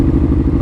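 A Ducati Monster motorcycle cruising along, its engine holding a steady, loud, low rumble through the whole short stretch.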